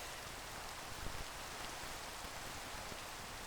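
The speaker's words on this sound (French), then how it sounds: "C'est un petit peu embêtant la pluie" Rain falling in the game StarCraft, a dense, even hiss of steady rainfall with faint patters, continuous and fairly soft, without any voices.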